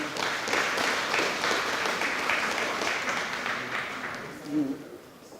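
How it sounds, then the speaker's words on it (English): An audience at a university admissions seminar applauds steadily for several seconds, a dense wash of clapping that fades toward the end. "let's give a good round of applause to Brent and Doris first."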